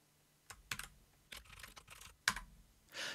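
Quiet, close computer keyboard typing as a name is entered: a few irregular clusters of soft key clicks with short pauses between them, no voices.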